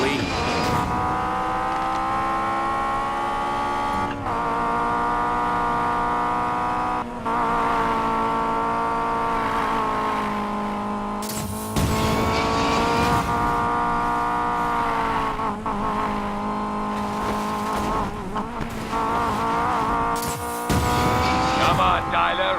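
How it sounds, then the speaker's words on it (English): Cars racing in Need for Speed Payback, with loud continuous engine roar rising and falling through gear changes, occasional tire squeal, and bursts of acceleration; game dialogue briefly overlaps the engines. "Come on, Tyler, race me."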